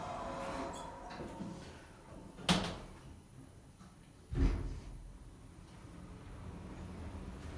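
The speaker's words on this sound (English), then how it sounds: "Doors closing." Lift doors in a Lincoln shopping centre slide shut, producing two soft thuds a couple of seconds apart over a steady, low hum of the lift and building.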